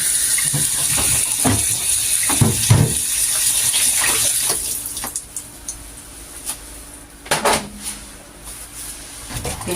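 Water runs and drains from washed, salted napa cabbage set in a strainer during kimchi making, a steady splashing rush for about five seconds that thins into quieter drips, with a few handling knocks.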